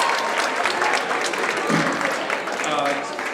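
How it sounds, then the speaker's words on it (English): An audience in a hall applauds at a student event, with loud, continuous clapping from many hands that stays even for the whole stretch and tapers slightly toward the end. "let's give them another big round of applause, please"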